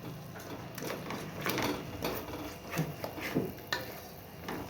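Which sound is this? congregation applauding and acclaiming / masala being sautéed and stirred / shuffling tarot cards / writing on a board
masala being sautéed and stirred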